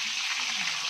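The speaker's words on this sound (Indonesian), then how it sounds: "kita sekarang goreng ayam" Chicken pieces frying in hot oil in a home kitchen, a steady close hiss and sizzle with no talking.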